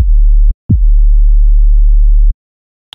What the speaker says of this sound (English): We've got a nice sub bass.